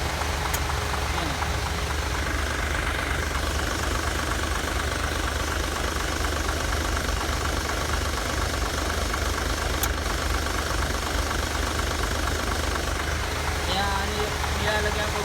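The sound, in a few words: truck engine running with air-conditioning compressor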